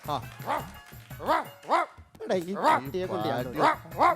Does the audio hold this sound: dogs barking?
yes